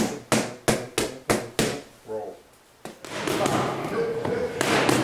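Boxing punches smacking focus mitts during technical Mayweather-style mittwork, a fast run of five sharp slaps followed by a pause, one more hit, then a busier stretch of noise; a voice briefly speaks between the impacts.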